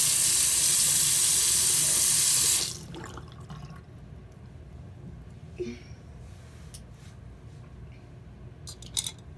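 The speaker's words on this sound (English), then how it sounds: "Rinse it off." Tap water runs loudly over a makeup brush for a few seconds, then cuts off, leaving quiet handling noises and a few faint drips and taps.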